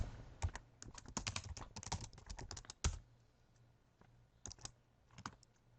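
Someone types on a computer keyboard in a dense run of quick keystrokes for about three seconds, then gives a few scattered taps. It is faint and close, and there is no talk.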